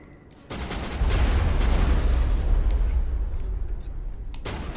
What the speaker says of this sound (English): We're already under fire.